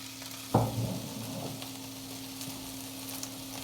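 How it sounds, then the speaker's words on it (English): Vegetables hit hot olive oil in a pan with a sudden sizzle, then settle into a steady low frying crackle that fades to a quiet background hiss with a few faint pops. "I'm going to roast it a little bit on top"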